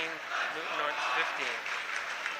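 A high school student section cheering in a gym during a boys varsity basketball playoff game, a steady distant roar of crowd noise and clapping beneath an announcer's close commentary.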